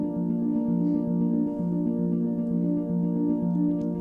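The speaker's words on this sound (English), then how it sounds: "A harp layered with an omnisphere patch." Synth patch of a harp layered with an Omnisphere sound: a sustained, steady harmonic pad with faint plucked pulses underneath, played alone at even volume.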